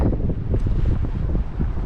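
Steady wind buffeting the microphone on a pier outside a city, a continuous low rumble and roar with gusty fluctuations, close and loud throughout.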